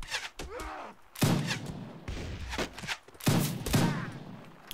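Dense, loud gunfire from a Warsword Conquest mod of Mount & Blade Warband during an attack on an orc settlement, with repeated sharp blasts and booming volleys layered over continuous battle noise.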